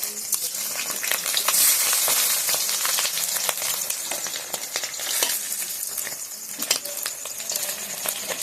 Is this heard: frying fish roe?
yes